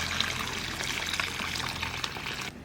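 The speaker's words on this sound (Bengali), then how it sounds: "গরম জল দিয়ে দিলাম।" Hot water poured into a pot of mutton curry, a steady broadband splashing stream running almost three seconds close by, then cutting off abruptly near the end, with no talking over it.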